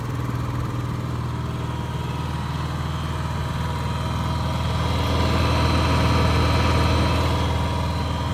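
A Honda EU7000is inverter generator runs at over full load, carrying about 7,500 watts on a simulated load bank, with a steady, unbroken engine drone that swells slightly partway through.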